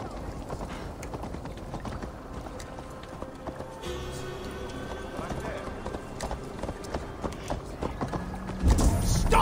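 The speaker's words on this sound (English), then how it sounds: "Stop that horse!" Horse hooves clip-clopping at a run in the video game Assassin's Creed Valhalla, a steady rhythmic beat under game voices and background sound, with a louder burst near the end.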